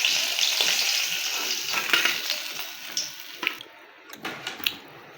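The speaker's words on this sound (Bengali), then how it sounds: "খুব হালকা ভাজা দিচ্ছি, যেটা মাছ বেশি ভাজলে মাছের স্বাদ থাকে না।" Koi fish fry lightly in hot oil with a steady crackling sizzle that gradually fades over several seconds. A few clinks and scrapes of a utensil in the pan follow.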